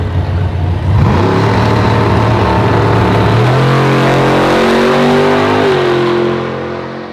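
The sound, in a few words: 1000 horsepower Coyote-powered car launching on a drag pass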